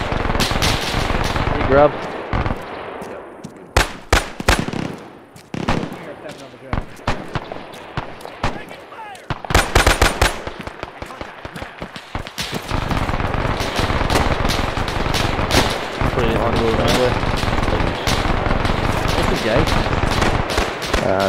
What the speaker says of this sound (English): Grub's got an MG42.